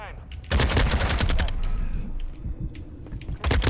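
Bursts of gunfire from a Modern Warfare 2 Ground War beta match, a loud rapid volley near the start followed by scattered shots, with some talk over the top.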